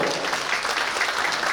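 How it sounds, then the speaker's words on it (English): A brief burst of audience applause rings out at the Toronto Hakka Festival 2023 opening ceremony, a dense wash of clapping hands from a crowd. "I would like to give them a big round of applause for the Chinese Culture Center for the support."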